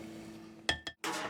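A few clinks against a glass jar while sour cream is scooped out for blueberry muffin batter, two quick close taps and then a louder scraping burst over a faint kitchen hum.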